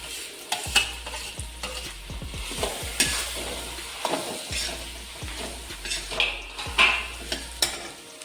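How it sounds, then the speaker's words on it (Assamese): Mashed potatoes with turmeric are stirred in a frying pan for Assamese potato chops, a soft sizzle under brisk repeated scrapes and knocks of the spatula on the pan, close up with no voices. "পিটিকি থোৱা এই আলুখিনি দি ল'লোঁ ইয়াতে।"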